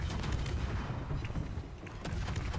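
Naval guns firing from a warship in an online naval battle game, a dense, continuous barrage of rapid booming shots rolling together at steady loudness throughout, with no talking.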